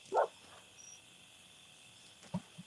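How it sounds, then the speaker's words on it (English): Crickets chirp faintly at night outdoors in a thin continuous high trill, with a couple of brief louder calls or knocks nearby. "Listen to the whippoorwills and the crickets."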